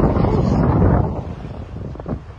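Strong wind rushes over a sailboat making quick progress on a smooth sea in roughly 14 knots of true wind, a dense constant roar that eases slightly toward the end, alone without speech.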